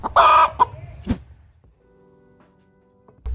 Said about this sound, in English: Final ingredient from this farm though is the chicken.